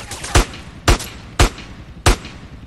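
Four loud, sharp gunshots ring out in GTA San Andreas at uneven intervals of roughly half a second, each with a short echoing tail.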